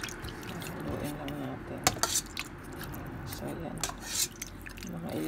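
Boneless pata tim being stirred in a slow cooker pot, with metal utensil clinks and scrapes against the pot, wet sloshing of thick braising liquid, and a person speaking faintly in the background.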